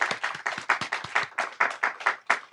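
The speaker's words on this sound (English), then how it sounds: "Please give a big applause to today's speakers." An audience at a panel event on building peace on the Korean Peninsula applauds the speakers with brisk, rhythmic clapping from what sounds like a modest group. The claps are close and even, with no talk.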